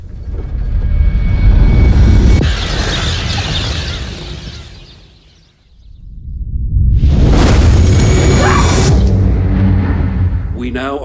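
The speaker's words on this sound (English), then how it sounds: "Wait, what is the explosion?" Comet fragment impact explosion in a disaster film trailer: two loud, heavy rumbling blasts fill the clip, separated by a brief near-silent dip, with voices talking over them.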